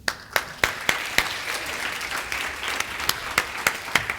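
An audience claps at a science talk, with sharp individual claps standing out over a steady wash of applause. The clapping is fairly close and continues throughout.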